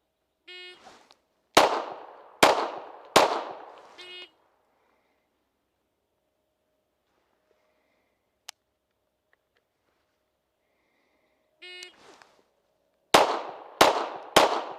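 Sharp gunshots from a Tisas Raider 1911 pistol firing .45 ACP, loud and close, come in two groups of quick shots separated by several seconds of near silence, each report ringing briefly.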